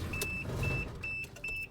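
A Toyota 80 Series Land Cruiser engine makes a weird rattle: four short, buzzy, high-pitched bursts repeat at an even pace over a steady idle, with no talking.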